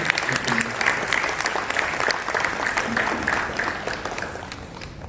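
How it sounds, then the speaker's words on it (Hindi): Loud, sustained applause from an audience at a Teachers' Day celebration as a guest is welcomed with a bouquet, dense clapping running steadily throughout and easing slightly toward the end. "एक बार जोरदार ताली हो जाए"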